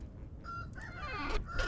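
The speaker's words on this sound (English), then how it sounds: "Oh, chickens." Chickens cluck in the survival video game Vintage Story, a short burst of clucking calls over a steady game background, near and moderately loud.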